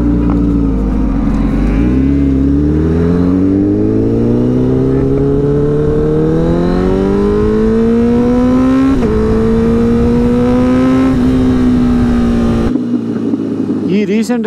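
A Honda CBR Fireblade SP superbike roars past, its exhaust note climbing steadily in pitch as the revs rise through the gears before cutting off abruptly near the end, loud and close throughout.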